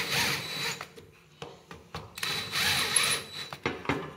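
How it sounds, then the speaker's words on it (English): A small power tool chamfers an oil passage in a Polaris Indy 650 triple engine, cutting in short, uneven bursts of rasping grind separated by brief pauses and sharp clicks, close by and fairly quiet. "And I just put a little chamfer on it."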